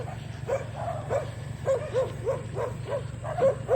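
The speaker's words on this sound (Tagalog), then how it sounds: "Ako, dami ring aso." Repeated dog barking on a rural farm, a rapid series of short yips and barks from several dogs at a moderate distance, over a low steady background hum.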